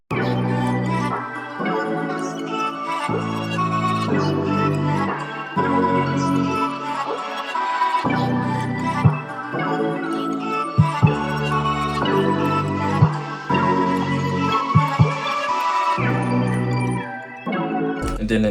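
A smooth R&B melody plays with a full drum kit, punchy kicks and snares under layered keys and bass, looping steadily in a loud, close mix with brief drops between phrases.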